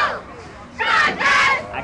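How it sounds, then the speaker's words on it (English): Madison Prep cheerleaders cheering at a high school football game, heard as two swelling bursts of high-pitched shouting and chanting from a distant group, rising out of crowd noise. "let's bring you some sprightly cheering from the Madison Prep cheerleaders"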